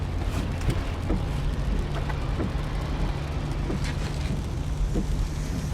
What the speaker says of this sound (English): This is the sound of your ride home with Dad after he caught you vaping.